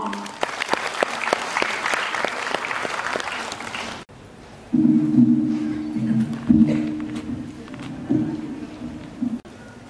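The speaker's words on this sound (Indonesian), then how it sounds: "Boleh beri tepuk tangan yang meriah." Audience applause at a university ceremony, a burst of crisp, dense clapping for about four seconds that cuts off, followed by a voice speaking over a quiet room.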